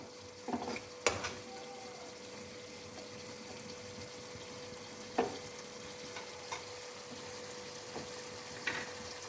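Masala for rohu fish korma being stirred in a pan: a soft, continuous sizzle with occasional scraping clicks from the spoon, faint and close.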